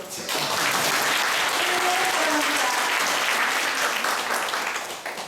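Indoor audience applause at a Catholic Vincentian training gathering, honouring a priest: steady, dense clapping from a large crowd, sustained at even loudness for about five seconds before tapering slightly.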